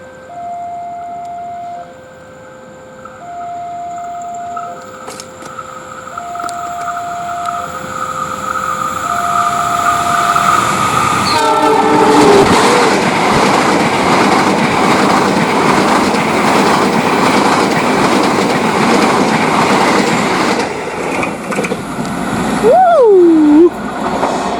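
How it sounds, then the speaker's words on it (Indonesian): Argo Wilis express train at Kalasa station, passing very close by a pillar: a repeating two-tone horn pattern, then a loud rumbling rush with rattling wagons and wind buffeting near the microphone, and a rising whistle-like tone at the end. "Ini kalau keretanya ngebut lumayan ngeri-ngeri juga nih."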